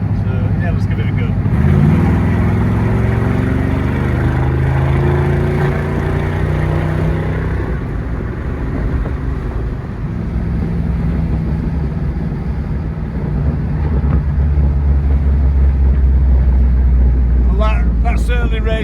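A classic car's engine is heard from inside while driving, its low drone climbing in pitch through the gears as it accelerates, with people talking over the engine.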